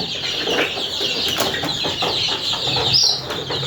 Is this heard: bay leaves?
no